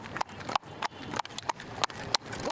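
Hooves clip-clop on a Washington D.C. street in a steady, moderately close rhythm of sharp hard knocks, with a faint murmur of people in the background.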